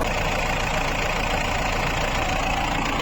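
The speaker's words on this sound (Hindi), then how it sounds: "इसके इंजन का साउंड बिल्कुल क्लियर है।" An old car's engine idling, heard close up as a dense, steady rumble with a hint of knocking, unchanging throughout and with no voices.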